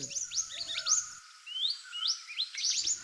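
A flock of about fifty small wild birds chirps in Asia. Quick high tweets and rising calls overlap and repeat at moderate volume in an open outdoor setting, and no one speaks.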